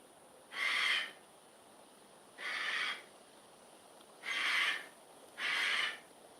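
A pet bird gives four loud, evenly spaced calls, each about half a second long and set apart by short pauses, clear and close in a quiet room.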